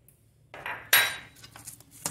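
Hot cooked rice being stirred with ginger and green chilli in a pot, a spoon scraping and clinking against the metal in a few short bursts, close and fairly quiet.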